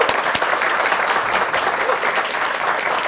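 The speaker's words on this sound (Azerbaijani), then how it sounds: "layiq olduğu bir alqışlarla qarşılayan sənətkara." A studio audience claps warmly and continuously to welcome a guest artist onto a comedy talk show, dense steady applause close up throughout.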